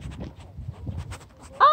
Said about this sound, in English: I hear it go, bah! It's a baby one.